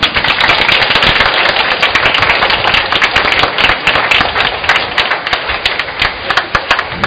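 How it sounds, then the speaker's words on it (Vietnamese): Loud, sustained applause from a church congregation at the close of a Christmas night Mass, dense clapping filling the space for the full stretch without pause. "Chúng ta cảm ơn bằng một tràng vỗ tay thật lớn."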